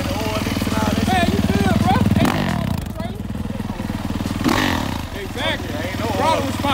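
A dirt bike engine, kick-started, runs with a rough, rapid chugging and is blipped through a couple of throttle surges, loud and close, while people talk over it.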